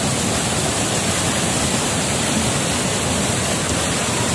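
Tinago Falls near Bansalan pours into its pool in a loud, continuous rush of falling water that stays dense and unbroken throughout.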